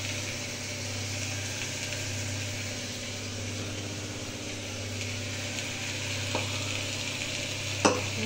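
Masala and meat frying in a little oil with a splash of water, stirred in a pan, a steady sizzle over a constant low hum, with scraping stirs and a sharp clink near the end.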